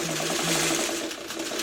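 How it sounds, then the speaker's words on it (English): A home sewing machine, the speaker's mother's, stitches an hourglass quilt block with a steady, fast mechanical whir and rapid needle chatter, close and continuous with no talking. "I love sewing with my mom's sewing machine"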